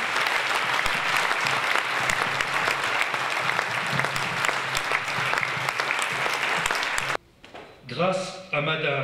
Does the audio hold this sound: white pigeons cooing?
no